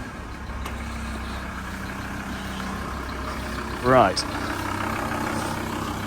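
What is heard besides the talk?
van diesel engine starting and idling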